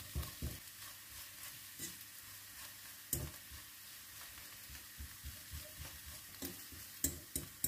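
An eggless chicory frittata fries and sizzles softly in a pan while a utensil presses and scrapes it down, giving intermittent taps and knocks over the low hiss, with no talk.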